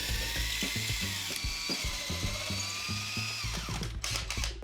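A power drill bores into a wall for curtain rod brackets, without a masonry bit, its motor whining loudly and close in a continuous run with rhythmic ratcheting pulses and a pitch drop as it winds down near the end.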